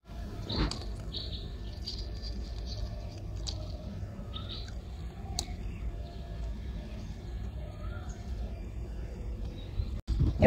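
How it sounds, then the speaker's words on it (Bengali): Asian koel calling in the morning from around a rooftop garden, with scattered bird chirps heard faintly and at a distance over steady outdoor background noise. "সকালে শুনতে পাচ্ছ কি সুন্দর কোকিলের আওয়াজ, এত ভালো লাগে সকালে কোকিলের আওয়াজ"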